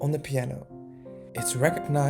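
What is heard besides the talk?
No everyday noise stands out behind the speech.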